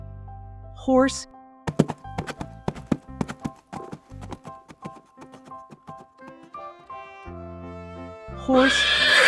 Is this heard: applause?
no